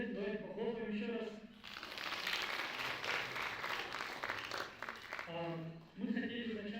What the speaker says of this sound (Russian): давайте похлопаем еще раз